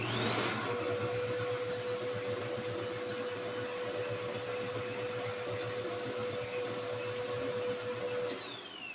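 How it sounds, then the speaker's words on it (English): A vacuum cleaner drones steadily with a high whine and a constant hum, running loud and close, with faint rattling of broken glass debris being drawn in from a garbage disposal. "I hear some things being sucked up, but not a lot."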